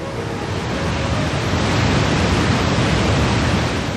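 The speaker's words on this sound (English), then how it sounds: "A 6-mile stretch of jagged rocks and tumultuous whitewater, the falls block all river traffic at the border of Laos and Cambodia." Tumultuous whitewater of Khone Falls, a six-mile stretch of jagged rocks on the Mekong River at the Laos–Cambodia border, gives a steady, dense roar of rushing water with no break, loud and close throughout.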